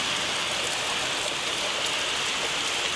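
Heavy monsoon rain pours down steadily at a village home, a dense continuous hiss with no breaks, loud and close, with no voices.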